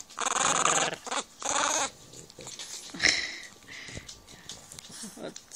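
A small French bulldog lets out low, rumbling growls in a couple of sustained bursts, followed by quieter snuffling and faint background sounds.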